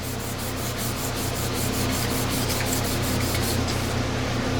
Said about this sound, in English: sand with the grain.